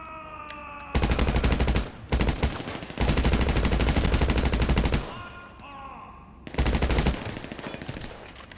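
Gunfire in GTA 5 Online: loud, rapid machine-gun bursts in three long strings separated by short pauses, close and harsh, with quieter game sounds in the gaps.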